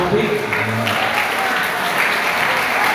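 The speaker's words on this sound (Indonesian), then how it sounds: "beri tepuk tangan untuk Bapak Taufik." An audience applauds steadily at a school event on human rights and religious moderation for Grade 10 students, a dense and continuous wash of clapping at moderate volume with some faint voices mixed in.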